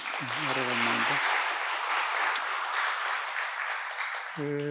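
Audience applause at a Yonsei breakfast prayer meeting, a steady wash of clapping lasting several seconds, with a voice speaking briefly at the start and again near the end.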